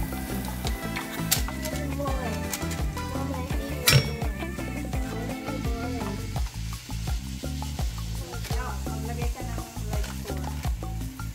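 Batter-coated flowers deep-fry in hot oil until crisp. A dense, steady bubbling sizzle carries through, close and even, with faint clinks of utensils and a sharper knock near the middle, and no voices.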